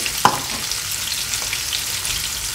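Fennel paste hits a hot pan and sizzles, one soft knock at the start and then a steady, close frying hiss with no talk.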